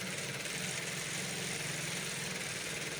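A sewing machine stitches a fabric flap onto an Ankara top, running as a steady, unbroken motor whir with a fine rapid pulse, close and even throughout, with no voices.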